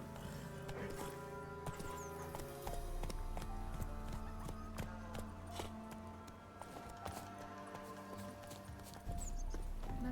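Clip-clop of the horse Roach galloping in The Witcher 3, a steady hoof rhythm running under game music and ambient sound, fairly close and continuous.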